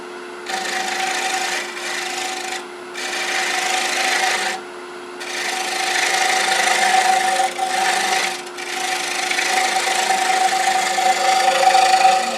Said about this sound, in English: Touch that right there with a scraper.